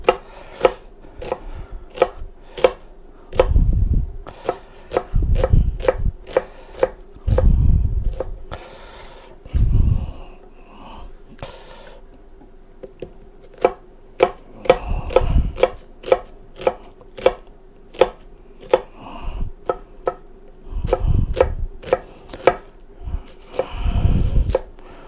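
Rapid, steady knife chops hit a cutting board as an onion is cut, crisp close strokes in quick runs with brief pauses, loud and clear with no voices.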